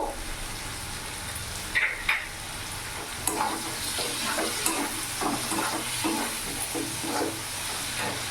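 Ginger, garlic and green chili paste hits hot oil in a pan, sizzling steadily up close while a spoon stirs and scrapes with a few sharper clinks.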